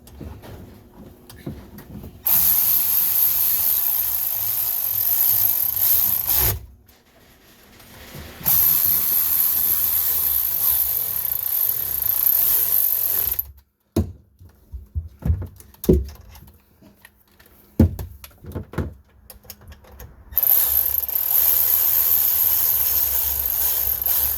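A power tool drives exhaust bolts on a 1996 Sea-Doo GTI watercraft in several long, loud buzzing runs, separated by quiet gaps filled with clinks and handling clatter.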